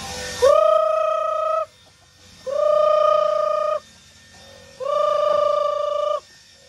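Three long, drawn-out tonal chicken calls with gaps between them, nearby, fairly loud and clear.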